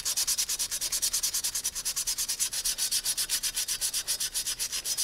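Parts of a Yamaha RZ350 motorcycle being restored are sanded by hand with quick, even back-and-forth strokes, a close, rhythmic scratchy rasp about six or seven strokes per second, with no voices.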